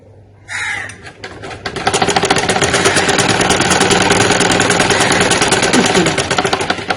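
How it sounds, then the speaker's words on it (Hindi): Sewing machine running a thick seam, a fast steady mechanical chatter that starts after a few clicks and continues close and loud for several seconds. "ऐसे सिलाई लगाएंगे तो ये मोटी सिलाई लगेगी पैर पैर की, जिस तरह ये मैं लगा रही हूं"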